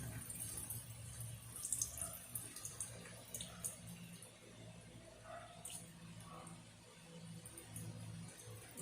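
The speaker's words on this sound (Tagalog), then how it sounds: "Itatapon ang tubig." Water from a container is tipped out, a soft, faint trickling and splashing that runs on and off for several seconds in a quiet room.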